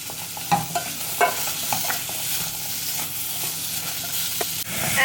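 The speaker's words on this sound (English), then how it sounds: "Lightly fry the onions a little bit." Onions lightly frying in a pan, a constant close sizzle broken by occasional scraping stir strokes and light utensil taps.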